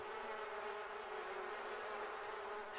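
Bees buzz steadily in the video game The Sims 4, a continuous close swarm drone that fills the whole stretch without any talking.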